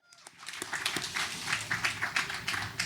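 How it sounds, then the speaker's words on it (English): Live audience applause at a cookbook festival builds quickly and holds steady, a dense wash of many hands clapping at once. "Give them a round of applause and enjoy."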